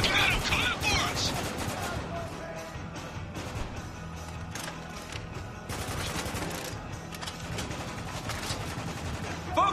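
Dense shooter-game gunfire from Spec Ops: The Line, rapid bursts of automatic shots and heavy thuds rattling on nearly nonstop at close range while soldiers' voices shout over the battle.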